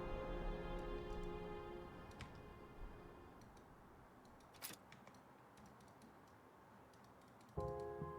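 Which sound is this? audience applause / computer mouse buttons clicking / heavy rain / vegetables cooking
computer mouse buttons clicking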